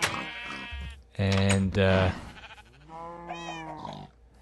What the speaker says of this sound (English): Got some sheep, some cows.